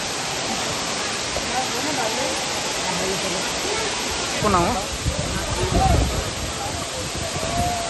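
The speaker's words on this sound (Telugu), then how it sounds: "చూడండి, ఎత్తైన కొండల నుంచి వాటర్ వస్తుంది." Waterfall pouring down from high hills into a rocky pool at Penchalakona, a steady broadband rush filling the whole scene, with someone speaking over it midway.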